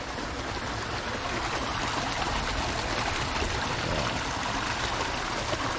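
A small stream tumbles into a little waterfall at a peaceful spot in Pasadena, giving a steady, close rush and trickle of water that holds even and unbroken throughout, with no voices over it.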